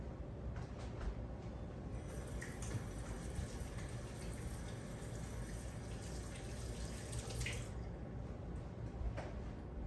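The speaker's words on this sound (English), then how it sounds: "I'm gonna wash my hands" Hands are washed under a running kitchen tap while roast chicken is being prepared, a continuous close splashing water sound with shifting wet squishes as the hands move, steady throughout and without speech.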